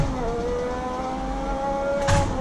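Lotus 98T engine in a racing simulator game at Nürburgring, holding a steady droning tone that dips in pitch as the gears come down, with a brief burst of noise near the end and no talking.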